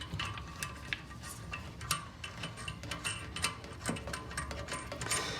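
A nut being tightened onto a toilet floor bolt with the supplied tool during a toilet installation, giving faint, close clicking and ratcheting ticks over a quiet background.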